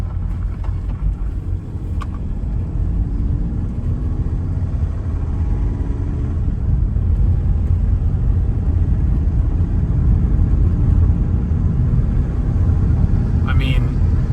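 A 2014 VW Passat TDI automatic diesel drives along, heard from inside as a loud, steady low rumble of engine and road noise throughout.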